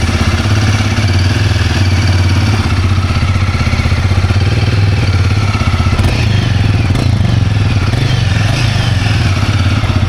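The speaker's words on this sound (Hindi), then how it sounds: "नए इंजन का sound is way to amazing" A Guerrilla 450 Apex motorcycle engine idles loudly and steadily up close, its exhaust thumping in an even, rapid rhythm with a slight clatter throughout.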